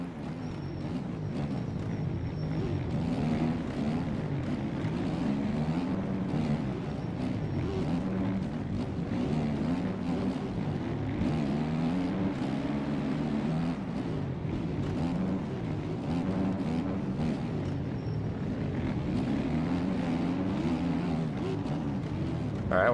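Several motocross bike engines race in MX Bikes, a continuous buzzing, droning blend whose pitch rises and falls as the riders accelerate and shift, holding at a steady loudness throughout.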